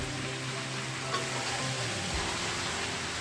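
Chicken and fried potatoes hiss and sizzle steadily in hot oil in a pan, a dense continuous frying sound close by with no talk.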